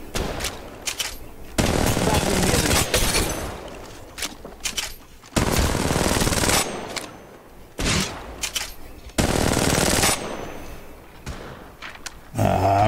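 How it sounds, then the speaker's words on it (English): Gunfire in Apex Legends Mobile, long loud bursts of automatic fire that repeat every few seconds, broken by quieter gaps and thuds. "Shots fired and they're hitting me"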